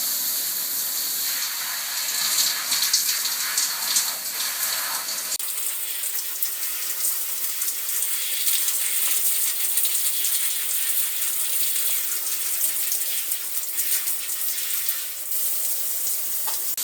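Water runs continuously from a tap or shower while dreadlocks are soaked through, a loud steady hiss of spray with faint splashing and rubbing, no pauses throughout.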